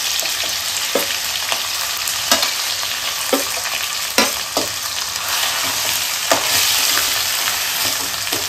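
A stone-ground spice paste fries in hot oil for a Maharashtrian surmai fish curry, loud continuous sizzling broken by regular spatula taps and scrapes as it gets stirred.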